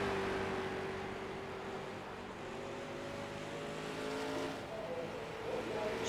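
Street stock race cars in a short track race at USA International, engines droning and revving steadily in a continuous close roar, with a commentator talking over them.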